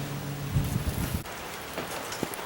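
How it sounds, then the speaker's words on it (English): Rain begins to fall outdoors near a house during gutter repair, a soft steady patter with a few louder drops and no talk. "It's starting to rain now."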